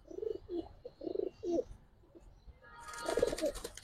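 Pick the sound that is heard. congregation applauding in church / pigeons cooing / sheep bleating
pigeons cooing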